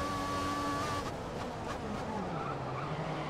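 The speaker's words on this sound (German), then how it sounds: "Da haben die Reifen ordentlich gequetscht." A Formula 1 race car in the video game F1 2014 at the German Grand Prix in Hockenheim, its tires squealing and skidding through a corner over the steady whine of the engine, with the pitch gliding downward.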